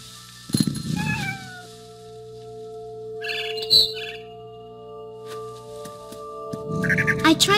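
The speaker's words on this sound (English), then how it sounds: "Then I heard chirping outside my window. It was a barn swallow going back to her nest." Short high barn swallow chirps from the game What Remains of Edith Finch, set against sustained electronic tones and a cat-like meow at the start and end.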